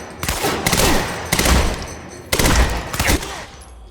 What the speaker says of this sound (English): we might as well try out this tactical SMG